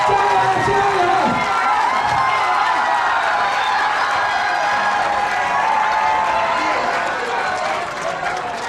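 Spectators at a children's sports day cheer and clap in a loud continuous crowd roar, with a voice calling out over the noise, fading a little at the end.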